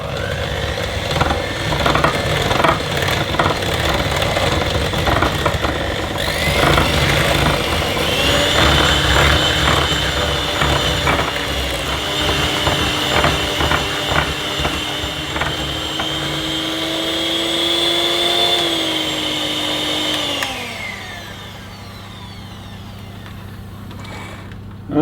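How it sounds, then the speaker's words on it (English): An electric whisk beats cake batter in a loud, continuous motorized whir that holds steady, rises slightly in pitch, then winds down and cuts out near the end, leaving a low hum. "we've got to mix it for one minute using an electric whisk"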